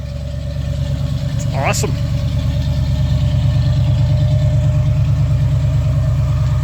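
A 1968 Pontiac Firebird's engine idles loud and close with a steady, even low rumble, while a person speaks briefly over it.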